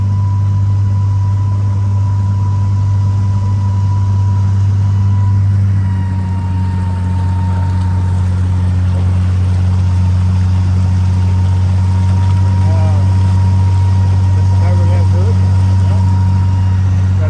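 A 1964 Amphicar 770 amphibious car running at wide open throttle in water, its engine giving a loud, steady low drone with constant splashing and rushing water over the full length, with no break in the sound.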